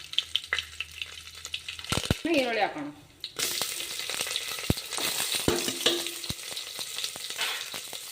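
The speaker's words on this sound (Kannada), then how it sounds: "ಚಟ್ಪಟ ಅಂದ ತಕ್ಷಣ ಈರುಳ್ಳಿ ಹಾಕೋಣ" Urad dal spluttering in hot oil with cinnamon and cloves, then onions tipped in for a louder burst of sizzle, followed by steady frying crackle and a few metallic spoon taps.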